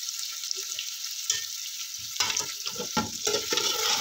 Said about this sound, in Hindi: इसको हल्का सा फ्राई करना है अच्छे से, ताकि हमारे मटन का जो कलर है ना वो ज़रा अच्छा सा फ्राई हो जाए